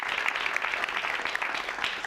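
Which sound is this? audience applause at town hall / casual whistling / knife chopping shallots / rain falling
audience applause at town hall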